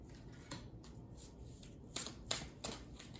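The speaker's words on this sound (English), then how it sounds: "This is a good shuffling deck. I love this deck for shuffling." An Angels and Auras oracle card deck being shuffled by hand, soft papery riffles and bursts that come in several separate passes, close and fairly quiet with no talk.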